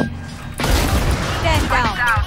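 Gunfire crackles in a tactical shooter game: a sudden dense burst of shots and impacts cuts in after a quiet moment, with a voice talking over the noise.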